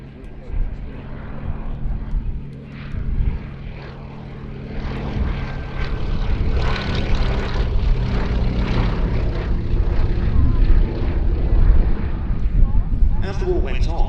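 A Bristol Mercury-engined aircraft takes off at the Shuttleworth Collection Festival of Flight, its radial engine roar swelling from a moderate drone into a loud, sustained propeller rumble.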